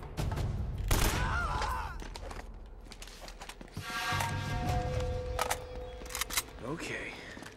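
Gunfire in the video game Uncharted: Drake's Fortune, bursts of shots and sharp mechanical clacks scattered across the clip amid game effects, with players talking over it.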